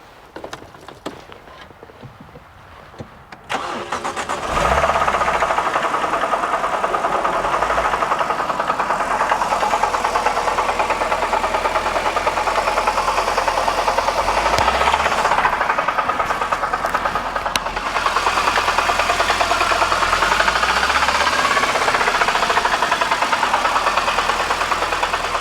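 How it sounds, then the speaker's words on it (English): A BMW E92 325i with a failing rod bearing idles loudly and close, a deep knocking rumble from low in the engine pulsing steadily beneath a rough, vibrating idle. "maybe it was a rod bearing rumble"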